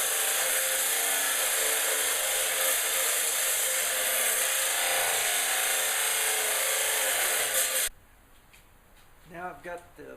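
A power saw cuts wood for a bushcraft knife handle with a loud, steady whining buzz for about eight seconds, then stops abruptly, leaving quiet handling noises.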